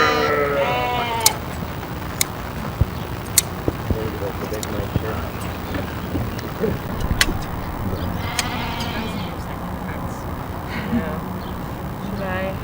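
Sheep bleat repeatedly and loudly close by during traditional hand shearing at a pioneer village, calls rising over steady chatter from people nearby.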